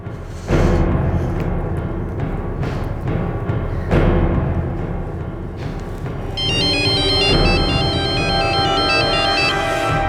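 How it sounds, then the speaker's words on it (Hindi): A phone ringtone plays a repeating electronic melody, loud and close, rising over a dense background of music and rustling. "अब तो मुझे किस लिए फोन कर रहे हो आबिद?"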